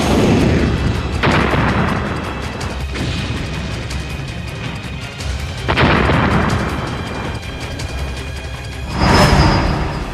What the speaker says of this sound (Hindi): मल्टीपल रॉकेट लॉन्चर से घातक वार।